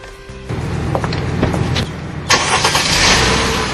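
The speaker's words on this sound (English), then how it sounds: "taking one of his last rides in his Mercedes" A Mercedes car runs on the road, its engine a steady low hum with mechanical rattles, growing louder and brighter partway through as it accelerates or passes closer.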